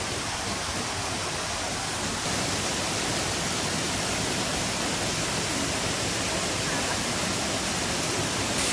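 The Vangan waterfall near Vansda, heard from above its drop, gives a steady broadband rush of falling water, even and unbroken, a little quieter for the first couple of seconds and then a constant roar.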